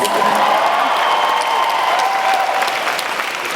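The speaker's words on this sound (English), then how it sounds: "Is there a cheer, a round of applause for corned beef?" Fan convention crowd at a Q&A panel breaks into loud, dense applause and cheering, a sustained wash of clapping that holds steady throughout.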